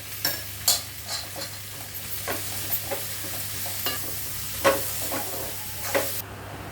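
Ginger-garlic paste frying and being stirred in a pan for veg biryani, with a soft steady sizzle broken by repeated clinks and scrapes of the spoon. No one speaks.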